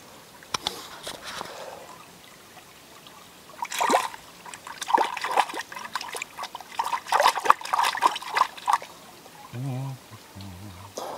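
Cold mountain stream water trickling and splashing in a village setting, heard in uneven bursts that grow louder midway, with a few brief voiced sounds near the end.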